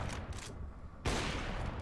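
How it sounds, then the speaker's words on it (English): Gunfire from a wall-penetrating shot on the Nuke map in a tactical shooter game: a few brief, fairly quiet bursts, then a louder sustained rattle of shots near the end. "you can shoot through this wall here and do a bit more damage"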